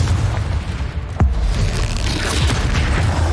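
A Confringo explosion spell cast in the Hogwarts Legacy video game, a loud booming blast with a sharp burst partway through, over continuous heavy low rumble.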